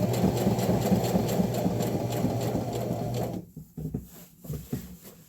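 A domestic sewing machine stitches fabric for a blouse made from thrifted bed sheets, running in a steady close hum for about three seconds before stopping, followed by scattered handling clicks.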